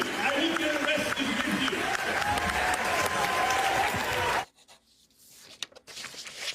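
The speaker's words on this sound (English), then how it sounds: "And the crowd goes wild." Applause and cheering from a crowd at a political speech, sustained and loud for several seconds before cutting off abruptly to near quiet with a few faint stray sounds.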